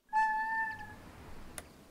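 Cat in the Animal Shelter video game gives a single clear, drawn-out meow close up, followed by a short sharp click.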